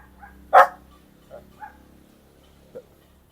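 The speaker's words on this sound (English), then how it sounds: "Anytime anybody walks by, they start barking, even this far away." A dog barking at people walking past, one loud close bark followed by a few softer yips and whimpers scattered over a few seconds, alone without talk.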